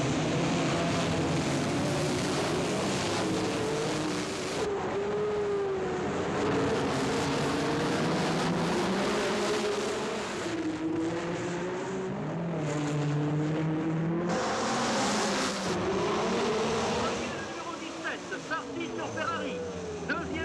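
Racing cars in a 1960s-era Monaco Grand Prix, led by Sarti's red Ferrari number 17, roar past the Hotel de Paris into Casino Square, engine notes rising and falling as they pass close, with a commentator talking over them.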